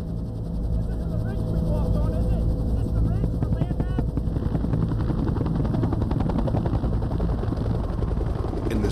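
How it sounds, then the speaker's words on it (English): Military helicopters flying over Vietnam make a dense continuous rotor thump and engine roar that stays loud throughout, with someone narrating over it. "You're flying the helicopters and the infantry into a landing zone"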